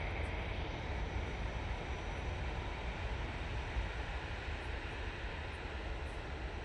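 An easyJet airliner sits on the ground at snowy Manchester Airport, its engines giving off a steady, broad, unbroken roar at constant loudness with no talk over it.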